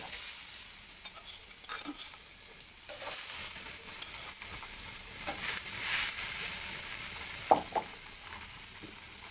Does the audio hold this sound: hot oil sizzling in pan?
yes